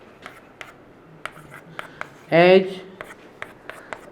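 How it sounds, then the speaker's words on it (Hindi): Chalk or marker tapping and scratching on a classroom board in short, evenly spaced strokes, with a brief burst of a teacher's voice partway through. "तो यहाँ पर हम लिखेंगे"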